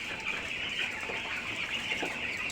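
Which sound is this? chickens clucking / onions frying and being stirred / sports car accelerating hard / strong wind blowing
chickens clucking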